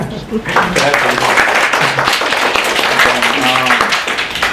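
Applause for a speaker at an academic research conference, a dense clapping patter that runs throughout while a voice talks over it.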